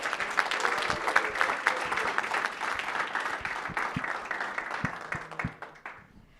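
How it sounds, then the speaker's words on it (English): An audience at the final presentations of a Penn State Harrisburg startup weekend applauds steadily in a room, a dense wash of clapping that thins out into a few scattered claps before stopping. "a big round of applause for everyone who participated"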